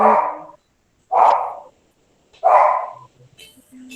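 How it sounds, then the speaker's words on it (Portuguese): A dog barks three times in a loud, evenly spaced series, with short quiet gaps between barks and a faint sound at the end. "Cachorro."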